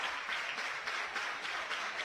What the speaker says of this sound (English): Fans, they're reared up, ready to go with all the claps.